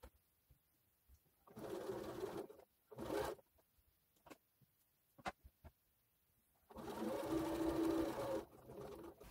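Sewing machine stitching a hem on the other side of a slit, running in two sustained bursts separated by pauses with faint handling noises between.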